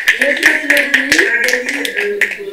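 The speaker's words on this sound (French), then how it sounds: "Alors, je t'applaudis." A few hands clap in sharp, irregular bursts at a live broadcast event, heard close up under a continuing speaking voice.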